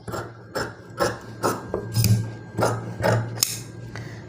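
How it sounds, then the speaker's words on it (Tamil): Scissors snip repeatedly through silk pattu saree fabric while a blouse sleeve is cut, about eight crisp close cuts at a steady, slightly uneven rhythm, with no talking. "இப்போ வந்து அப்படியே இந்த ஸ்லீவ் கட் பண்ணிக்கலாம்"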